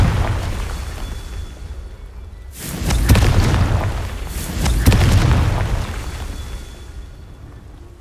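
Two heavy, booming blasts from the Confringo spell in Hogwarts Legacy, each a roaring explosion with a long crackling tail, about two seconds apart over a low ambient rumble.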